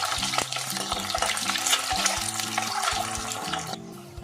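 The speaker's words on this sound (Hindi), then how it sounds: "एग फ्राई करते वक्त तेल की छींटे उड़ते हैं, इस तरह से आवाज़ भी आती है।" Steady crackling sizzle of eggs frying in hot oil for egg biryani, with sharp spatter pops throughout, fading slightly at the very end. No voices.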